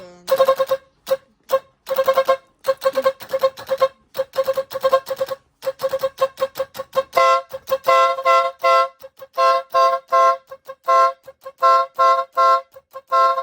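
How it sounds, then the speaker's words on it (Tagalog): A dual car horn, wired through a horn diagram setup, is tested in rapid bursts of short honks and toots, loud and close, growing into denser, longer blasts with brief silences between. "Normal na mahina siya pero sa dual horn malakas pa rin siya"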